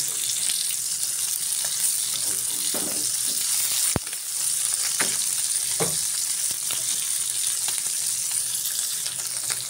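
Jatka hilsa fish frying in hot oil in a wok, a continuous close crackling sizzle with a sharp clink from a utensil partway through.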